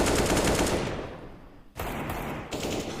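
Rapid automatic gunfire from a Counter-Strike match between G2 and FaZe on the Ancient map, loud dense bursts that fade briefly before resuming in sharp sustained volleys.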